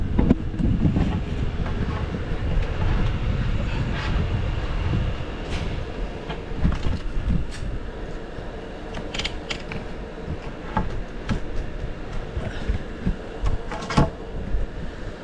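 A long saw cut runs across a 4-inch soffit board for a crown molding repair, giving a continuous loud, rough rumbling grind with scattered knocks and rattles from start to finish.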